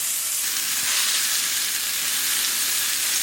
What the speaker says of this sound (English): we done seared both sides of our fish